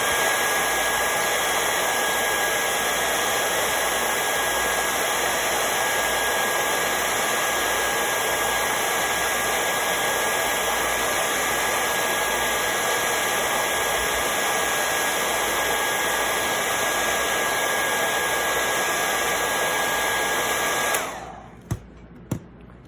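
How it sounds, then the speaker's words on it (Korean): Hair dryer blowing hot air on the side of a Galaxy A8 Star phone during disassembly, a loud steady whine and rush running for over twenty seconds before cutting off, followed by a few small clicks. "드라이기를 이용을 해서 측면을 뜨겁게 해주고요"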